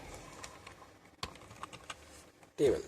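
Keys clatter on a computer keyboard while a formula is entered in an Excel spreadsheet, a scattering of quiet, irregular clicks with one sharper tap midway and a louder burst at the end.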